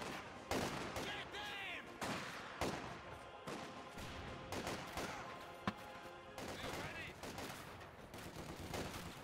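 Rapid bursts of machine gun fire crackle through a Company of Heroes 2 battle, repeated staccato volleys with short pauses between them and a sharp single crack near the middle, with a voice faintly in the mix.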